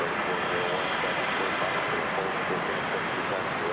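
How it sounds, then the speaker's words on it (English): American Airlines Airbus A321 from San Antonio passing at Dallas/Fort Worth airport at dawn, a steady broadband jet engine roar that stays loud and even throughout. "coming up right behind it is American Airlines Flight 2266 from San Antonio. It'll be Airbus A321."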